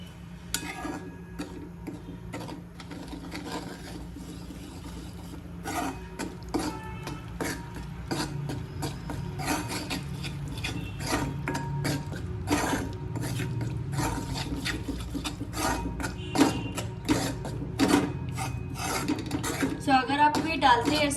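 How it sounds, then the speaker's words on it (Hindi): Wheat flour (atta) stirred and roasted in hot ghee in a pan for halwa, with steady scraping and clinking of a spoon against metal under old film songs playing throughout. "घी हो गया अच्छे से गरम। हम इसमें डालेंगे हमारा आटा।"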